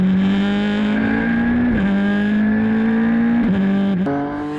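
KCMG race car lapping another car during the 2013 Asian Le Mans Series 3 Hours of Fuji, its loud, close engine howling steadily with quick upshifts and pitch drops in the second half, with no voices.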